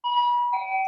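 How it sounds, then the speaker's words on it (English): A single bell rings with a clear sustained tone whose pitch shifts partway through, loud and alone for under a second with no talk. "I don't know if you heard the bell."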